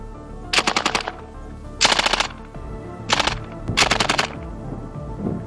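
C9 light machine gun in Insurgency Sandstorm fires four loud automatic bursts, each a rapid rattling string of shots around half a second long, separated by brief pauses, alone with no talk.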